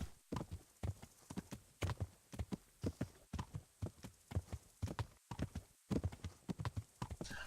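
In the video game Kingdom Come: Deliverance, horse hooves pound in a quick, uneven gallop rhythm, close and clear, with a faint hum beneath and no talking.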